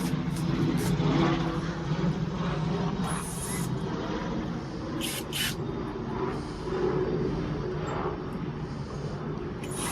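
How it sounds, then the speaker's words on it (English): Steady droning engine noise of a helicopter overhead, continuous and moderately loud throughout, with faint outdoor background. "The helicopter's going."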